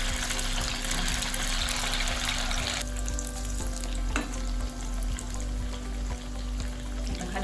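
Moong dal and rice vadis shallow-frying in a little oil over a low flame, a continuous soft crackling sizzle with a low hum beneath it and an occasional faint tap of a utensil.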